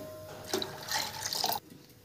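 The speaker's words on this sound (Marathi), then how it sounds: "आता हे चिंचेचं पाणी आपण हे पण टाकून घेऊया।" Tamarind water is poured into a pot of Marathi-style kadhi in a short liquid splash and trickle lasting about a second, close and fairly soft, with no one talking.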